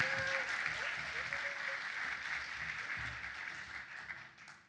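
An awards ceremony audience claps in a steady, moderately dense round of applause that tapers off toward the end, with a voice talking over it.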